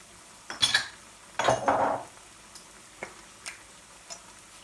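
Teaspoons of mixed curry powder tipped into a cooking pot for a chicken madras give a few light metallic clinks and taps, two louder scrapes followed by softer ticks, with no voices.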